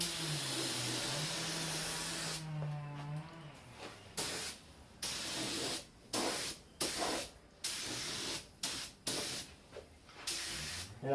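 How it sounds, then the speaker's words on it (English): A paint spray gun sprays car paint at moderate pressure, first in one long continuous hiss and then in a series of short, evenly spaced bursts. "I could have the pressure higher, but I'm not getting much overspray"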